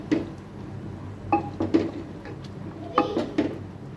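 Boiled lentils and potato being mashed together with a wooden masher for chotpoti, a few soft squishing thuds and light knocks against a pot in irregular clusters, close and fairly quiet.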